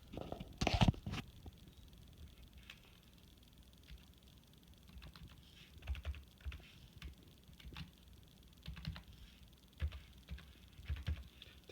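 Quiet, irregular clicks of a computer keyboard come in short bursts of keystrokes separated by pauses while commands are typed, with no talk.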